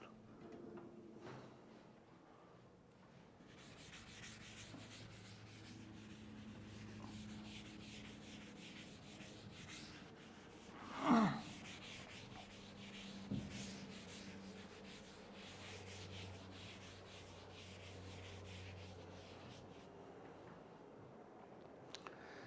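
Duster or cloth rubbing a board clean during a classroom lecture on English grammar, a steady scraping wipe running under faint room noise, with one sharp knock partway through.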